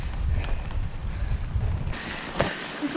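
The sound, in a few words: wind blowing while cycling uphill in Wales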